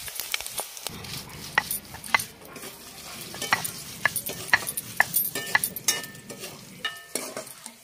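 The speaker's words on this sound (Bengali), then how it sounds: "শুটকিটা প্রায় ভাজা হয়ে এসছে" Dried lote fish (Bombay duck) fries in an oiled pan with a soft, continuous sizzle broken by frequent sharp clinks and scrapes of a spatula stirring against the metal.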